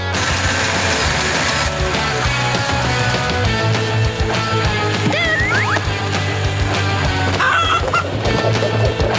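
Chickens cluck and squawk steadily in the PAW Patrol cartoon, over a busy background of music and bustling noise, with a few higher chirps breaking through.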